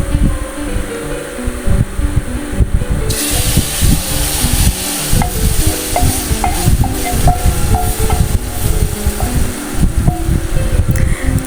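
Loud, continuous sizzling and crackling of hot oil tempering for Pakistani kadhi pakora, with scattered sharp pops and stirring clatter throughout, close up and without talk.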